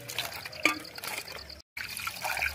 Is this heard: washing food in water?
yes